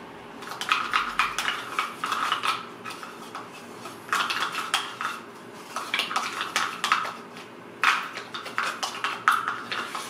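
A mixture is stirred in a container, producing repeated bursts of clinking and scraping of a utensil against the vessel in an uneven rhythm, close and moderately quiet, with short pauses between strokes.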